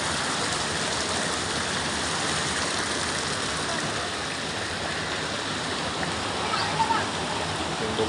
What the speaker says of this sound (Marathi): असं पाणी वाहत झालेलं आहे खाली.